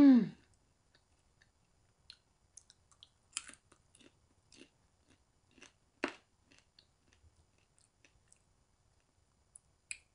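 Homemade caramel corn is chewed up close, with scattered crunches and sticky clicks at an irregular pace among quiet gaps, following a short sound at the very start.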